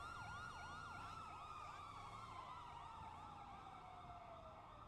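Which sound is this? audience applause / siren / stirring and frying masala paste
siren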